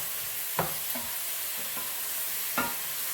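Onion frying in a pan for chicken manchurian gives a steady sizzle with a few soft stirring scrapes and clinks, close by and moderately quiet, with no talk.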